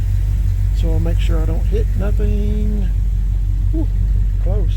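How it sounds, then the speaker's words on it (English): Engine of a 1978 Chevy C10 truck idles loudly and steadily close by in a garage, a deep constant rumble running throughout beneath a man's short spoken remarks. "Let this thing run for just a minute out here."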